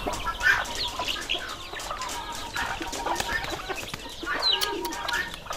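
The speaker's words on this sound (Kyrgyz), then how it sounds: "Көгүчкөндөр каарманыбыздын короосундагы тооктор менен бирге жем талашып, короону канаттуулардын үнү каптайт." Pigeons and chickens crowd a village farmyard while being fed grain, with overlapping clucks, coos and scattered bird calls rising and falling at close range throughout.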